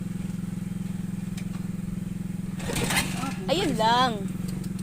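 A motorcycle engine putters steadily at low idle nearby, its even rhythmic thrum continuing throughout while someone speaks over it partway through.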